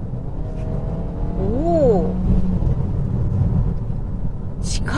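A Volvo V40 T3 engine pulls under acceleration as a steady, loud drone from inside the cabin, with a brief rising tonal sweep near the start and a short exclamation from a driver over it.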